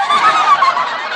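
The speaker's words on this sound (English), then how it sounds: "Well, quack, quack." A single nasal goose quack-honk used as a comic sound effect in a 1949 radio comedy broadcast, loud and close, lasting about a second on its own.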